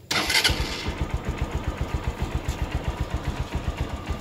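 A cold motorcycle engine fires on a single press of the starter, with a brief cranking burst, then settles into a steady, rhythmic idle putter, close and moderately loud, with no voices.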